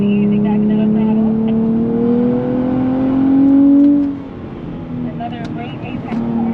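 A 2023 Nissan Z Performance accelerating on a track, its engine note climbing steadily in pitch, then dropping off as the throttle eases and building again, heard from inside with someone talking over it.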